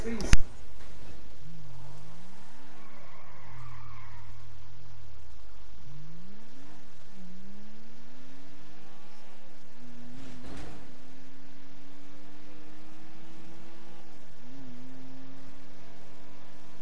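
A car engine revs and swells through repeated rising and falling pitch sweeps while drifting in a PS4 driving game, holding steady at high revs toward the end, with voices talking over it.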